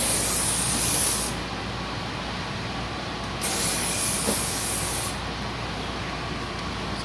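A spray can hisses in two long bursts of coating onto a car headlight, with a short pause between them, steady and close, and no voices.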